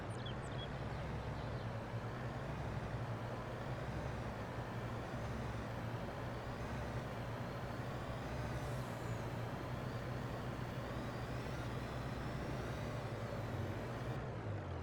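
A truck in Farming Simulator 22 drives along with a steady, droning low engine rumble that holds an even level throughout, with no voices.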